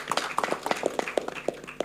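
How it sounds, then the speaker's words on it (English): Audience hands clap at a symposium in Accra, a loose scatter of distinct, fairly close slaps from a modest number of people, irregular and crisp over a couple of seconds. "A round of applause."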